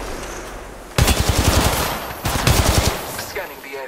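Two rapid automatic gunfire bursts in Apex Legends Mobile, loud and close, each about a second long, separated by a short pause, with no voices heard.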